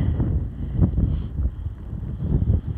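Steady wind buffets the microphone at a mountain overlook on a hiking trail in Glacier National Park, a continuous loud rumble with gusty swells and no voices.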